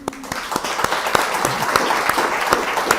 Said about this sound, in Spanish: primero aplaudimos.